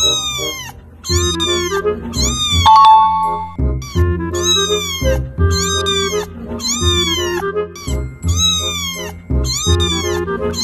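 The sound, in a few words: person imitating a kitten's meow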